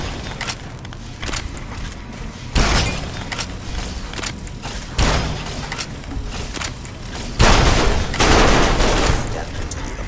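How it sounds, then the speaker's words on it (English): Several loud bursts of gunfire in the video game Fallout: New Vegas, spaced a few seconds apart with sharp cracks and booms over a steady combat din. "Firing weapons."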